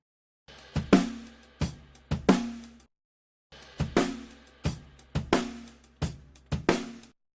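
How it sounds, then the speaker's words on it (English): A mixed drum kit groove with the snare's polarity flipped, making the snare hits sound weak, hollow and slightly muddy; two short bars of kick and snare hits with a pause between, played alone without talk. "if I flip the polarity on this, the snare is going to suddenly sound really weak"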